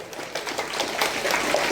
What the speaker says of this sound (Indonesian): Kita terlupa beri tepuk tangan untuk kor